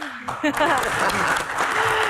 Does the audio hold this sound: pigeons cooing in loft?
no